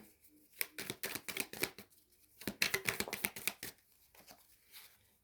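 Tarot-style cards are shuffled and drawn in two quick bursts of close, crisp riffling and flicking, separated by short pauses, with no talking.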